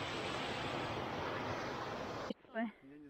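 Waterfalls flowing down from Lago Prando, a loud, steady broadband rush that cuts off abruptly near the end, followed by a brief voice.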